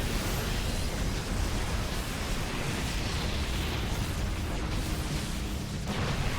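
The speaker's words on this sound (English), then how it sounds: "SCVs now getting stormed as Clem pushes in with confidence." Psionic storms strike a group of SCVs during a Terran versus Protoss StarCraft 2 battle, a dense, continuous crackling roar of energy and explosions filling the scene at steady loudness.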